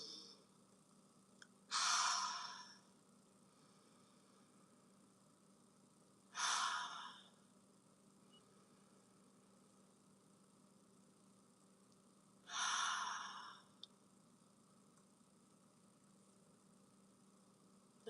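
Three slow, deep breaths during guided relaxation, each an audible exhale heard close, spaced about five seconds apart, with quiet stillness and a faint low hum between them.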